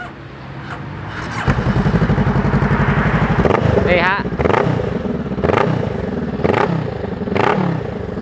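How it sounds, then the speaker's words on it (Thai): A 2018 Honda Rebel 500 with an aftermarket exhaust idles with a loud burble, then revs sharply several times in quick bursts, close by, with a brief spoken word near the start. "เดี๋ยวมาฟังเสียงท่อกันหน่อย"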